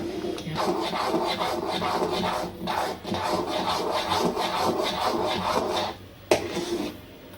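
Ground pineapple paste is stirred in a pan for pineapple kesari, giving loud, close, rhythmic scraping strokes of a spoon against the pan, with a brief pause and a single sharp knock near the end.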